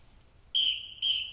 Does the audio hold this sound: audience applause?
no